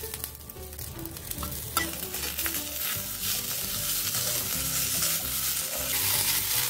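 Greens sautéing in a pan for a South Indian thuvaiyal, a continuous sizzle with scraping stirs of a spoon throughout, growing slightly louder toward the end.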